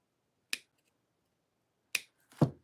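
Extra cords on a silicone keychain are cut off with sharp scissor-like snips: one crisp snip, a pause, then two more quick snips in a quiet room.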